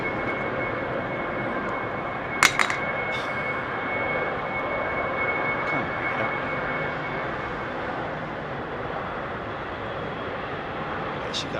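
A Cathay Cargo Boeing 747-8F freighter takes off from Heathrow, a steady, broad jet roar that holds at moderate distance throughout, with a couple of sharp clicks early on.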